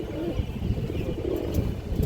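Kaldom high-flyer pigeons coo in low, soft bursts, a close and steady murmur of repeated calls with no talking.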